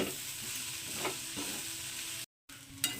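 Egg and potato frying in a pan, a steady close sizzle with soft stirring scrapes, briefly cut to silence before resuming.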